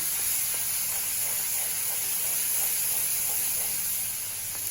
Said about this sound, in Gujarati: અને ડુંગળી સહેજ બ્રાઉન રંગની થાય ત્યાં સુધી આપણે એને સાતળીશું